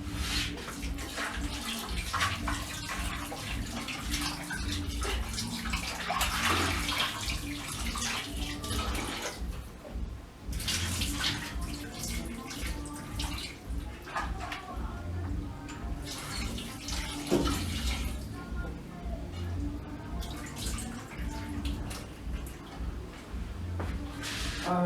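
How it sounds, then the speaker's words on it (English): Raw meat for a chicken stew being washed under running tap water, a steady close rush of water with splashing and handling noises throughout, brief dips where the flow is interrupted, no talk. "You wash the meat."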